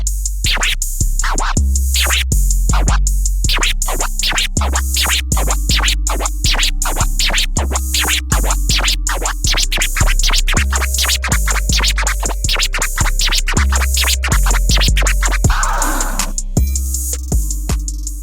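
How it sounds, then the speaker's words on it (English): Turntable baby scratches at fast, medium and slow speeds run over a steady drum beat with a deep kick and bass. The scratches are loud and continuous throughout the loop. "So I did the fast, slow baby scratch at a slow tempo."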